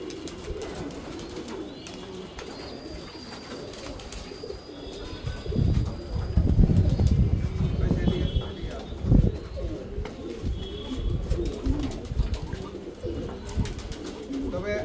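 Racing pigeons coo in a small loft, with low throaty calls and a few flaps of wings close by. The cooing grows denser partway through, and someone talks over it at times.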